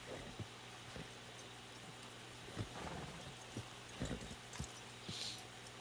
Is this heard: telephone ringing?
no